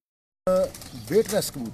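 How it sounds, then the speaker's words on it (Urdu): Soft cooing of tiger pigeons in a short burst of low, rounded calls, close by, with a person speaking over it. "کبوتر"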